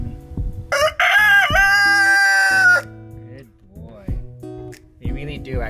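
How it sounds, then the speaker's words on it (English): A rooster crows once up close, a loud drawn-out cock-a-doodle-doo lasting about two seconds, followed by softer clucks and short calls while a person speaks nearby. "Crow again for me."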